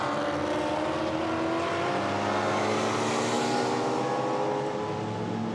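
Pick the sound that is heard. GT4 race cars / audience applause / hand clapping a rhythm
GT4 race cars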